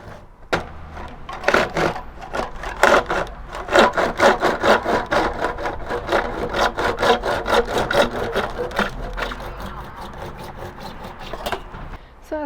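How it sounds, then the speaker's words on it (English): A hand saw cuts through a plastic roof downpipe in quick, rhythmic back-and-forth strokes, close and loud, continuing steadily for several seconds. "And then I'm going to saw it."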